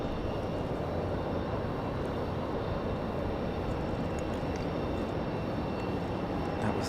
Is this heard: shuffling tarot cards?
no